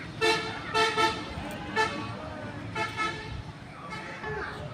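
Car horns toot in short bursts, about five of them spread over a few seconds, above steady road traffic on a main road at the Shat Gombuj mosque site in Bagerhat, with voices faint in the background.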